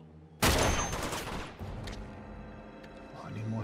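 Gunfire from Uncharted 2 Among Thieves Remastered on PS5, a loud sudden volley of shots and blasts that decays into rumbling echoes, with scattered softer shots following.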